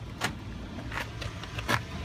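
Power door locks on a 2007 Toyota Sequoia actuate in a few sharp mechanical clunks, close and distinct, spaced apart inside the cabin without talk.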